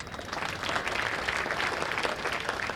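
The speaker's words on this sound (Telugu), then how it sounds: "ఇప్పుడు కొట్టాడు చప్పట్లు" An audience at a public gathering applauds with steady, even clapping that holds at a constant level for a few seconds, fairly close and without any voices.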